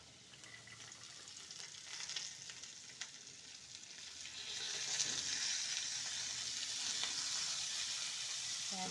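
Chopped beans tossed into a pan of fried onions, giving a steady hiss of frying that swells louder midway and then holds as an even, close sizzle.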